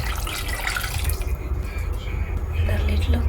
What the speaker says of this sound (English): I'm going to go in with a little milk and some water